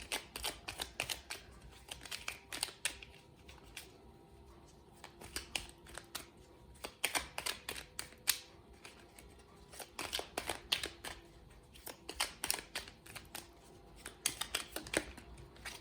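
A deck of oracle cards is shuffled close by for a card reading, giving a long run of quick, soft riffling and flicking bursts that sound fairly faint, with no speech.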